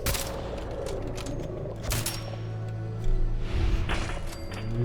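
Gunfire in the video game Fallout 4: Far Harbor, aimed at a Trapper: several sharp, booming shot bursts spaced a second or so apart over a low ambient game drone, with no talk.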